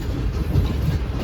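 Pak Business Express passenger train on the Karachi to Lahore line, heard from inside an economy class carriage as a steady low rumble with faint rolling clatter, continuous and close, with no voices.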